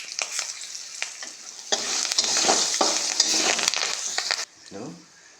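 Curry leaves spit and crackle in hot oil for a lemon rice tempering, a loud close sizzle swelling midway with scattered pops and stir clinks, then dropping abruptly as a voice speaks briefly.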